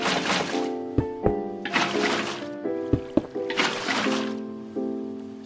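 Water being placed and flowing in Minecraft, with bursts of whooshing liquid and trickling, mixed with sharp block-placing clicks and a steady tonal background music layer.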